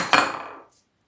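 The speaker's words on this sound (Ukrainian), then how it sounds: "І тепер, після цього, беру миску" A kitchen bowl, picked up while making pastry dough, gives one bright metallic clank with a brief ringing tail and a faint higher clink near the end, close and with no voices.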